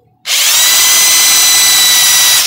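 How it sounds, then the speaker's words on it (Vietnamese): A Japanese-market cordless drill on a 14 V battery runs in standard drilling mode, spinning up abruptly into a loud, steady high-pitched whine that holds unbroken to the end, with no talking. "cái này khoan thường nha anh em"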